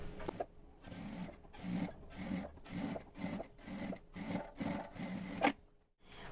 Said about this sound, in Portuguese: E aqui eu vou passar uma costura de pesponto em cima do tecido